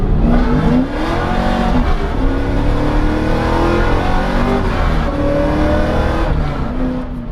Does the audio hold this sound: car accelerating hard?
yes